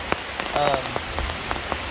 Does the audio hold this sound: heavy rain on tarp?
yes